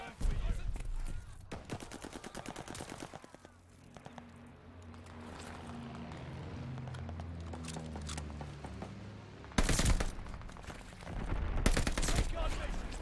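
SCG gunfire in Call of Duty: Vanguard, with sharp bursts of rapid shots near the start and loud bursts again toward the end, separated by a quieter stretch of game noise.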